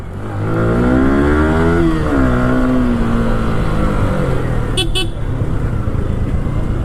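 A second-hand bike offered among used R15S, Duke and NS models runs with a close, steady engine drone whose pitch rises as it revs, then settles, and a short horn toot sounds near the end.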